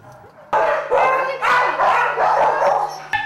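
Newly arrived dogs at an animal shelter bark loudly and repeatedly in close, overlapping bursts with yips, a sharp clang at the end and a faint hum underneath.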